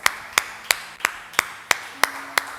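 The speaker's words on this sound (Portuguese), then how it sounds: "Dá uma salva de palmas ao Senhor." A church congregation gives a round of slow, steady claps, about eight in even rhythm, all together and clear.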